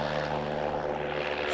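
Private propeller airplane at Whiteman Airport, its engine holding a loud, steady drone with a constant low hum throughout, no voices over it.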